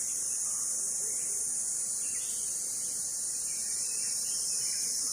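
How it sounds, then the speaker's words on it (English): Crickets trill in a steady high-pitched chorus at a nature resort in Goa, a continuous, even drone filling the quiet surroundings. "you can hear the birds and crickets"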